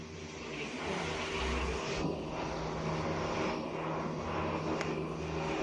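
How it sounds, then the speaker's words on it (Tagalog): An electric fan hums steadily in a quiet room at home, a constant droning whir with a low tonal hum underneath and no voices. "Ganito tunog dahil sa ventilador."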